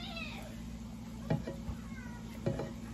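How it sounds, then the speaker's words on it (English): A house cat meows outdoors, faint and distant, with a couple of drawn-out calls over a steady low hum, plus two short knocks that stand out. "You hear my little kitty cat?"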